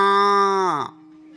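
A human voice imitates a newborn calf calling for its mother, a single drawn-out, nasal bleat that holds steady and then bends downward before cutting off, close and loud.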